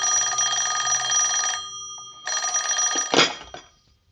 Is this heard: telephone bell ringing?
yes